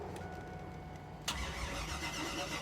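A car engine cranks over without catching in a cheap car bought for racing, with a steady grinding churn that swells abruptly partway through and keeps going, close and loud with no talking.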